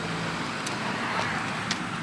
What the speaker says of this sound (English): We got cars coming.